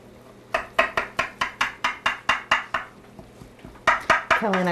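A knife slices through a baked pierogi casserole, tapping against the dish in a quick, steady run of about a dozen sharp clinks, then a brief pause and a few more cuts as a voice starts at the end.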